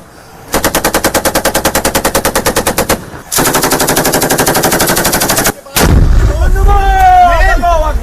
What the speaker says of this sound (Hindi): रॉकेट लॉन्चर और लाइट मशीन गन से गोलियां चलने लगी।